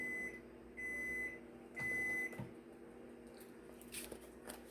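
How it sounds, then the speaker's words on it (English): Three steady electronic beeps from a microwave oven ring out at a high pitch over a low appliance hum, spaced roughly a second apart, followed by faint clatter. "that's my microwave"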